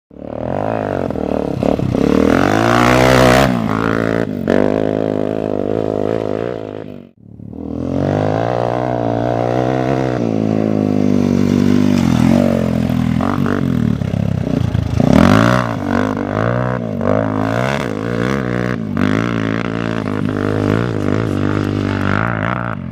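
A Suzuki DRZ 400 dual-sport motorcycle ridden hard, its engine loud and close, revving high and holding through the gears with a brief drop-off near the seven-second mark before climbing again.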